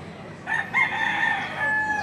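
Roosters at a poultry market give a drawn-out crow, fairly close and clear, over a low background hum of the market.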